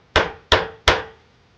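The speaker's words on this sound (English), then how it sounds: "if I have any nails that are sticking out a little bit, so I don't forget, I'll go ahead and take a hammer." Three sharp, evenly spaced hammer strikes drive protruding nails flush into a wooden porch post beside a pool, each a loud close knock with a short ringing decay.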